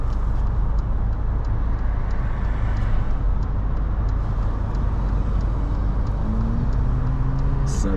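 A car drives along a suburban road in the rolling hills of Harkaway near Melbourne, with a steady, loud road and engine rumble throughout and a faint rising engine tone near the end.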